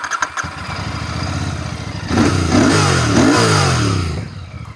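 A Royal Enfield Bear 650 scrambler motorcycle engine fires up and revs several times, the whistling exhaust note rising and falling loudly before settling back to idle.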